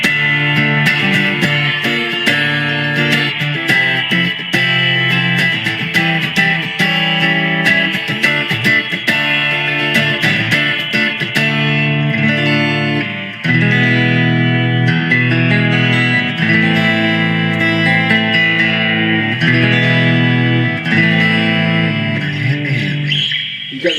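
Steady strummed acoustic guitar playing through a preamp with a thick, processed, slightly gritty tone, continuous and loud throughout with no voices.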